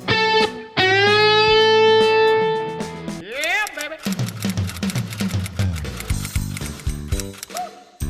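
Electric guitar note picked and then bent up a step and a half, the pitch gliding smoothly upward and holding, followed by further picked and bent notes in a close, steady run with no talking.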